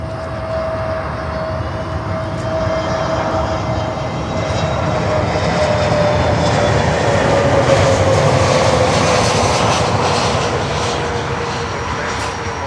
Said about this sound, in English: there's a plane on floats coming in here